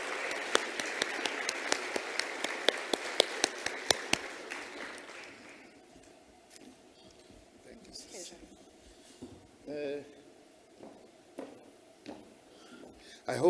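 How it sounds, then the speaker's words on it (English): Applause at a South African women-in-science awards ceremony greets a government minister coming on stage, a burst of sharp clapping that fades after about five seconds, followed by quiet room noise and faint bumps. "Let's give him a warm round of applause"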